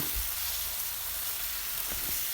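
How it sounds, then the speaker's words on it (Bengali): A spice paste of cumin, chili and a generous amount of coriander powder, loosened with a splash of water, sizzles in a pan as a steady, even frying hiss with no voices. "ধনে গুঁড়া দিয়ে দিলাম একটু বেশি করে তাহলে একটু জল দিয়ে এখন মশলাটাকে একটু ভাজা ভাজা করব"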